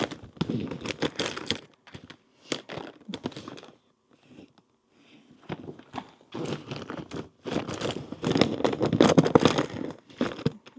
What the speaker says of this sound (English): Sorry for the noise of me rooting through.